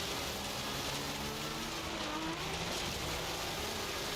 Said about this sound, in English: This is the stock engine. It sounds a little weird, but I'm guessing that's just how it is.